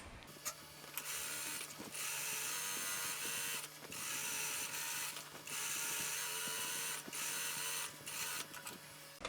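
Sewing machine stitching a second seam beside the first on a long basic dress, running in steady mechanical bursts with brief pauses between runs, loud and close with no talk.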